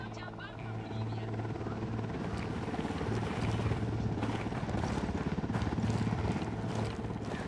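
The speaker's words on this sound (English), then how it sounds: "Helicopter, get down." A helicopter approaches in the video game Ghost Recon Wildlands, its rotor chopping in a loud, steady thudding pulse under wind and engine roar, with voices talking over it.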